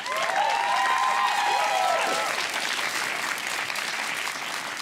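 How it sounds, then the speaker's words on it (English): Applause from the audience at a Strictly Come Surrey ballroom dance show, a loud, full wash of clapping with cheering and a few whoops in the first two seconds, then steady clapping continuing to the end. "Another huge round of applause."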